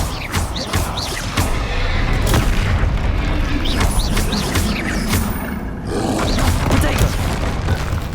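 Bombarda spell blasts in the Hogwarts Legacy video game, loud booming explosions repeating through a dense battle din with whooshing magic effects and a constant roaring rumble.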